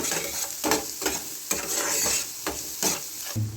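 Spice paste of salt, turmeric and chilli powder frying and being stirred in a pan for a Bengali mustard fish curry, a close, steady sizzle broken by regular scraping stirs roughly every half second.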